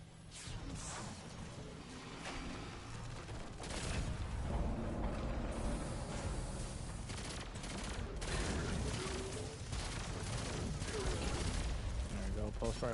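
Pulse rifle gunfire in Destiny 2 Crucible play: rapid bursts of crackling shots packed into a loud, busy mix of effects that keeps going across the whole stretch.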